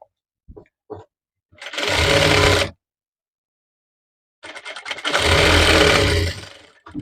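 Sewing machine stitching a blouse lining, two sustained bursts of rapid whirring stitching about a second and a half each, separated by silence, preceded by a few short clicks.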